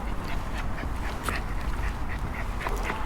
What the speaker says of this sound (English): and all the wildlife, the grey lag geese